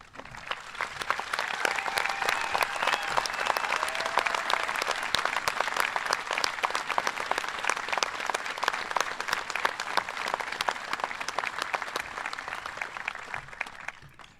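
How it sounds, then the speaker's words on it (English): A large audience at an outdoor high school commencement ceremony in 2021 gives veterans a sustained round of applause, dense steady clapping that lasts about fourteen seconds and then tapers off. "them our respect by giving them a round of applause."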